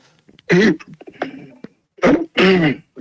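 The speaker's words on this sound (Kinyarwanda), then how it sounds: "Ko numva inkorora" A person on a morning talk program clears the throat and coughs in short, close, harsh bursts, separated by brief gaps and some quieter vocal sounds.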